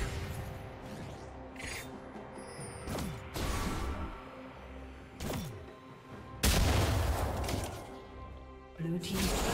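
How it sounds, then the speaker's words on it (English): League of Legends turret being destroyed amid mid-lane combat, with several sharp booming impacts and crashing bursts over a busy backdrop of game effects. "Blue team's turret has been destroyed."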